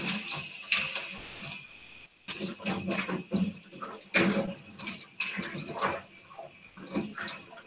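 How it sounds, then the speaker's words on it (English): Running water flows from a tap as pottery tools are rinsed under it. The rush is moderately quiet and uneven, with intermittent clinks and splashes as the tools are handled. "I'm just gonna go and give the tools a little bit of a rinse."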